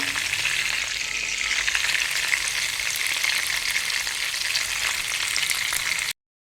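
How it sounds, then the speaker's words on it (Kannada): Marinated chicken frying in oil, a loud dense continuous sizzle with fine crackling, close and steady until it stops abruptly. "ಮಸಾಲೆ ಹಾಕಿಟ್ಟ ಚಿಕನ್ ಹೀಗೆ ಫ್ರೈ ಮಾಡ್ಕೊಳ್ಬೇಕು"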